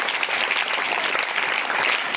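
A school audience breaks into sustained, dense clapping, many hands close and loud, steady throughout with no voices above it.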